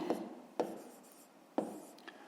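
A pen scratches out a math expression on paper, with a few soft taps and brief scratchy strokes, close and quiet against a faint room hiss.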